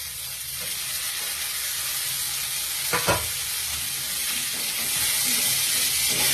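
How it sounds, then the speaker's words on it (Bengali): Chopped tomatoes are tipped into onions frying in a pan, raising a dense steady sizzle with one brief scrape or splash partway through and no talking. "তো এবার আমি এই টমেটো আগে থেকে কুচিয়ে রাখা টমেটো কুচিটা দিয়ে দিচ্ছি।"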